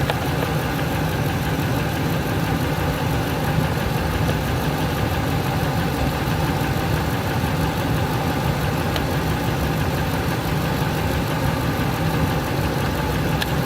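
A Ford F150 engine idles steadily, a constant low rumble with a faint ticking texture that stays even and unchanging throughout, with no voices over it.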